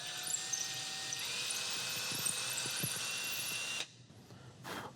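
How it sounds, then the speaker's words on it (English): Power drill boring through wood for a potato cannon build, a high, steady motor whine for nearly four seconds that cuts off abruptly, followed by a brief second burst, fairly faint and without talk. "we're going to go ahead and drill out with these anyways"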